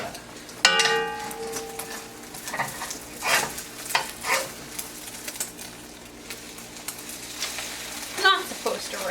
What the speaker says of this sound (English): I'm gonna flip over the egg.